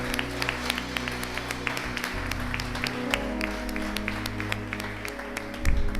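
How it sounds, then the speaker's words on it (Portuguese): A church congregation applauds during a worship service with continuous clapping over a low sustained musical drone, and individual claps stand out through the wash. "Você pode aplaudir ao Senhor."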